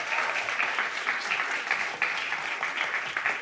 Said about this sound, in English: Just give another round of applause to Soy for being so courageous to come up here and to talk.